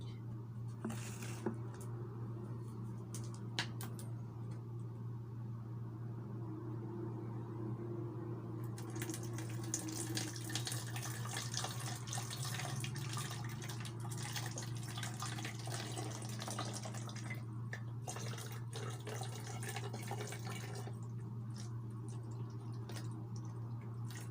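Water pours steadily into a container for over ten seconds, a splashy hiss over a constant low electrical hum.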